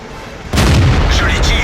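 A tank gun fires in World of Tanks with one sudden, loud, close boom that cuts into a quiet background. A low rumble trails off after it.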